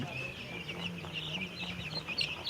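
Broiler chicks and chickens on a poultry farm in Cox's Bazar give soft, continuous peeping and clucking, a low, busy chorus close at hand with faint background noise.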